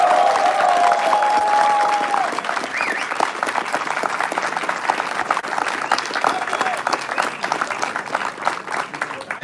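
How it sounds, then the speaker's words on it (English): Sustained audience applause from a large crowd at a robotics competition awards ceremony, steady clapping throughout, with a brief tone and a voice fading out at the start. "We're just going to raise your hands or stand up for applause."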